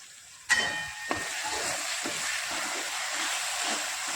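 Tomatoes frying in oil on low heat under a lid, a sharp clatter as the lid goes on, then a steady close hiss and sizzle continuing alone.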